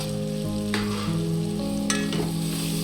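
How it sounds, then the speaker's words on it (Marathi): Spices sautéed with browned onions in a pot for mutton pulao, a steady close sizzle and stirring with a couple of sharp utensil clinks, sustained tones running underneath. "मसाले मस्त परतूया"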